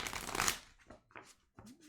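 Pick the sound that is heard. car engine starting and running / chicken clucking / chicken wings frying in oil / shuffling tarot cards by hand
shuffling tarot cards by hand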